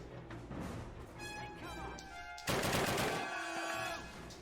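Gunfire in the World War II shooter Call of Duty at a Bastogne bunker, with a machine gunner firing: sharp gunshots and a dense burst of fire crowding the middle, loud and close, while game voices and music sit underneath.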